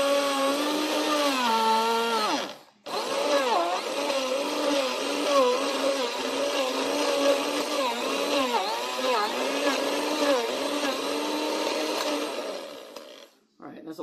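A blender churning a fruit, veggie and protein smoothie with the lid off, a loud continuous motor whine with shifting pitch as the load changes, a brief stop near the start and again near the end.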